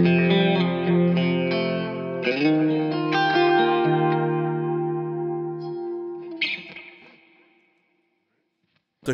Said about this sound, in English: Now here's just chorus, delay, and reverb without the drive.